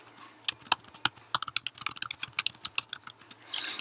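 Typing on a computer keyboard while entering reviewer notes and feedback: a quick, uneven run of crisp key clicks, close and fairly quiet, with no talking.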